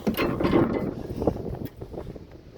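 Cooling chamber hatch being opened on a TGM23 shunting diesel locomotive, a close run of metallic rattles, creaks and clunks, loudest at the start and fading toward the end, with no talking.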